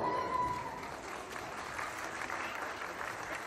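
An audience applauds a couple qualifying for the final at a Huasteco huapango dance contest, a soft, steady, fairly distant patter of clapping from a crowd.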